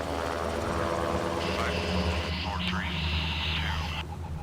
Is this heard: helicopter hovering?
yes